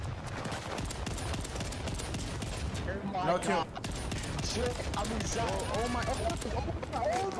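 Rapid gunfire from Call of Duty: Vanguard multiplayer, with shotgun blasts amid dense automatic fire, loud and continuous across the whole stretch, with a voice talking over the game sounds.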